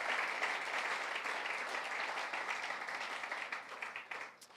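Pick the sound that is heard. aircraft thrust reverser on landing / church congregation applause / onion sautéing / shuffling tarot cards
church congregation applause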